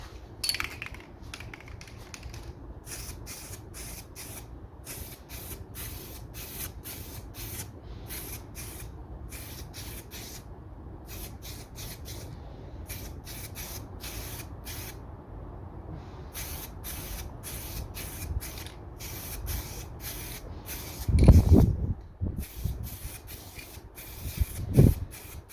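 2K aerosol spray paint hisses in long, steady bursts broken by short pauses, applied during work on a Ford Fiesta ST180 MK7, with a brief louder knock near the end.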